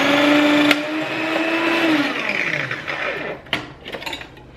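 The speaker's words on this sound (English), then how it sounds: "I am plugging in the food processor" A food processor shreds potatoes fed through the top chute, its motor giving a steady, fairly loud whir with a grinding rattle that shifts in pitch and then winds down with a few clicks.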